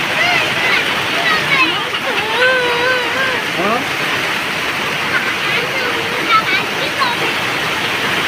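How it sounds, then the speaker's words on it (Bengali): Heavy rain pours down near a train and a restaurant in a loud, continuous roar, with faint whistling tones and distant voices blended under the downpour. "বসতে হবে না, যে বৃষ্টি পড়তেছে"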